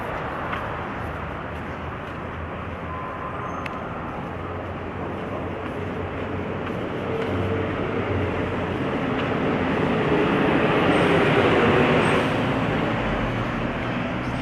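Low, steady rumble of a skytrain passing along an elevated track above Sukhumvit, slowly swelling louder over a wash of street traffic noise.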